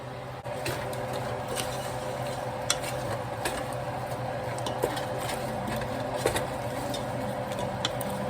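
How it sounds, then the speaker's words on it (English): Coconut milk stirred into a pot of brown stew chicken: a continuous close sizzle with scraping spoon strokes and occasional small knocks against the pot, no voices. "Now let me mix it all in."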